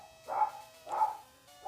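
Two synthesized dog barks from Pokémon Gold, evenly spaced about half a second apart, clear and fairly close over a faint background tone.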